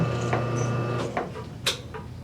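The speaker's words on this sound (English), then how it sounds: "of course I gotta adjust my stroke here, so let's stop the machine." A Delta Ammco metal shaper machine being stopped: a mechanical hum and rhythmic clanking wind down, followed by a few scattered knocks and a sharp metallic clack nearby.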